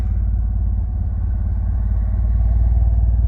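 A high-mileage DSM car with its check engine light on idles low: a loud, close, steady engine rumble with an even pulsing throb and light clatter, no talking.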